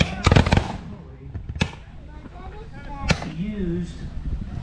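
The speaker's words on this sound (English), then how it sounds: "We're gonna get to see the cannon fire." A black-powder cannon fires at a Civil War reenactment, giving several sharp outdoor booms, a dense burst followed by two more single blasts, with crowd noise and voices around.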